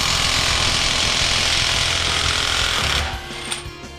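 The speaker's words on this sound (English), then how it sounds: "I have a 1/2 inch impact. We'll see if that's enough to get this off." A 1/2 inch impact wrench hammers at the hub nut on a Honda Fit track car in one loud, continuous rattling burst lasting about three seconds, then cuts off into quieter shop noise.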